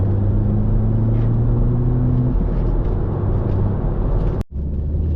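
An Audi S3 8P pulls away with a steady, loud engine drone and rising tone that shifts briefly as it changes gear, then a short dropout before the same continuous road and engine roar returns.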